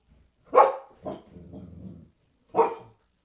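Dog giving a sharp bark, a shorter bark, then a low rumbling growl and one more loud bark, close and indoors with no talking.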